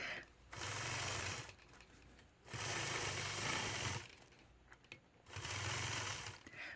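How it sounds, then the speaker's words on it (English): A sewing machine quilting a block in light green thread, guided by a 4-in-1 machine quilting ruler, runs in three steady bursts of stitching separated by short pauses, close and fairly quiet. "stitch using my 4-in-1 machine quilting ruler as my guide and stitch an X right through the center of my block"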